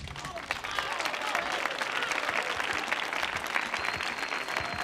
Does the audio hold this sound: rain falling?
no